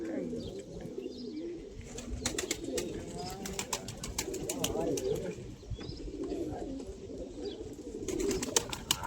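Pigeons kept as a hobby at a friend's house coo in soft, repeated low rounds, close by, while people talk over them and small sharp clicks and chirps come through.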